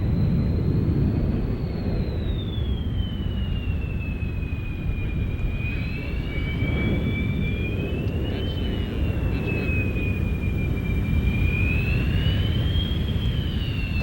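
Airplanes, military jets and commercial airliners such as a 747, arrive at an airport in the rain with a loud, continuous engine roar and a high whine that rises and falls, steady throughout with no talking.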